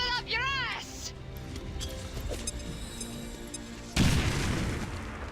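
A grenade goes off in XCOM 2, a sharp explosive boom following earlier game sound effects, with a person talking over the gameplay throughout.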